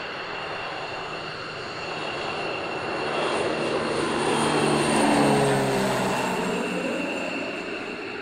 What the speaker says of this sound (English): Always looks good in the sky. It's the very nice F-16.